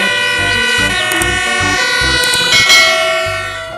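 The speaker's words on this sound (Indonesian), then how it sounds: "yang ini truk pemadam kebakaran" A toy fire truck siren wails continuously in a bright electronic tone, close and loud, with a rhythmic pulsing pattern underneath and no talking.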